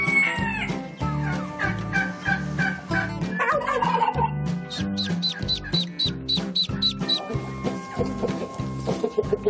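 An Araucana chicken, a breed that lays blue eggs, calls loudly and repeatedly at close range in a rhythmic series of clucking, gobbling notes on a small farm.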